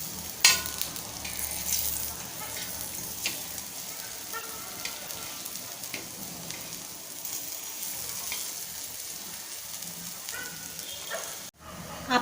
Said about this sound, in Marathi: आपण दुसरी साईडही फ्राय करून घेऊया